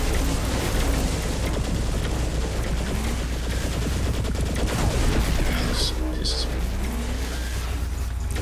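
Dense, continuous gunfire in the video game Saints Row the Third, rapid bursts and shots layered into a loud, busy din, with a voice talking over the action.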